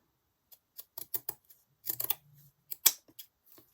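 Scissors trimming the edge of hessian fabric glued to a cutting mat, a series of short, crisp snips and rustles at close range, spaced irregularly and fairly quiet, with a brief low hum partway through.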